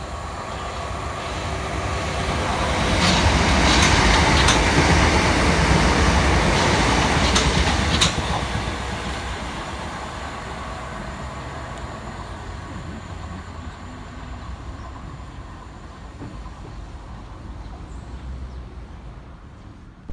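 A Southern class 377 electric train, unit 377624, passes through New Cross Gate station with a rising rush of wheels and motors that peaks early and fades into a long rumbling tail, with a few sharp rail clicks.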